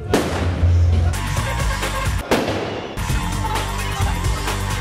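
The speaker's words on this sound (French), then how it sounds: "Attention, il y a un pétard." Loud explosive bangs burst out, a sharp firecracker blast followed by further booms and rumbling crowd noise in a busy outdoor scene.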